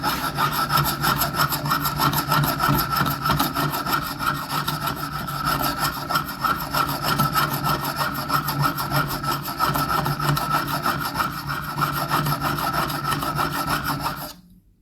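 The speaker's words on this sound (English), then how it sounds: "We now turn the chisel around and grinding the bevel." A chisel's bevel is ground at a home sharpening station, giving a steady, loud, continuous rasping scrape that runs without a break for about fourteen seconds before stopping abruptly.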